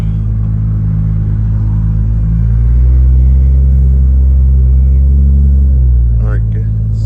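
A TH400-swapped Nissan R32 Skyline GT-R engine idles with a loud, close, deep rumble that swells in the middle and settles, with a brief voice-like sound near the end.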